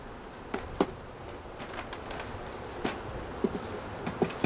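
A honey bee swarm hums steadily inside a hive a week after collection, a soft continuous drone with a few sharp taps and clicks from frames being handled close by.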